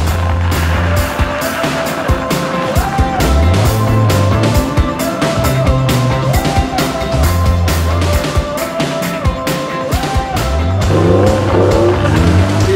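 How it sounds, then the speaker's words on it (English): A car on studded winter tires driving over pure ice during a cold-weather test drive in Finland, its engine rising and falling in steady pitch sweeps, with rough tire noise and clicks throughout, loud and continuous. "I expect to feel what does it mean to use studdable tires on pure ice"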